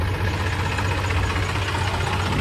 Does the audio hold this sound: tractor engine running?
yes